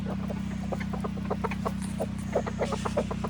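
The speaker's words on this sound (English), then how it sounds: "We love our chickens around here." Backyard chickens cluck and peck in quick, scattered bursts close to the microphone, layered over a constant low mechanical hum; no one speaks.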